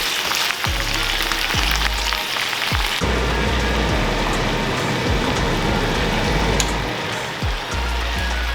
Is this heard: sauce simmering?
yes